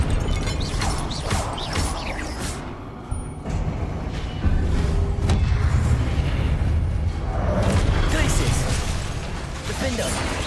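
Confringo fire spell explosions in Hogwarts Legacy, a dense run of booming blasts and crashing impacts in a busy combat mix with rumbling low end throughout.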